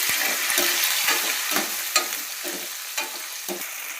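A tomato and green chilli mixture is stirred in a pan over a sizzling tempering of asafoetida and curry leaves for potato dry bhaji. A spoon scrapes in steady, repeated strokes above a constant close fry hiss.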